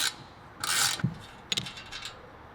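A ratchet turns a Torx bit on a fastener during a chopper motorcycle build, giving a few short clicking bursts up close with brief pauses between them.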